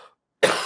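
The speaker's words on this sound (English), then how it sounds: "Still working on this cough" A single sharp human cough bursts out close and loud, preceded by a brief fragment of voice and a moment of silence.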